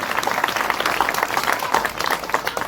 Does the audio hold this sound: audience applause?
yes